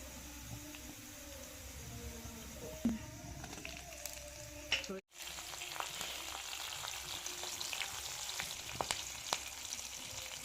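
Nigella and cumin seeds with chopped green chilli fry in hot oil for tempering, giving a continuous close crackling sizzle with brief stirring clicks and a short break in the middle.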